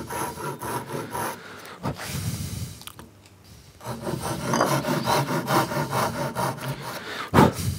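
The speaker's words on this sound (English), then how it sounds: "Can we take a little bit off with the saw?" A hand saw cut through wood while making a boot rack, heard as close rasping strokes in an uneven rhythm with a short pause midway, no talking.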